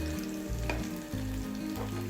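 Steady frying of small shallots in a pan for a prawn dish, a continuous sizzle with occasional stirring clinks and a low hum underneath.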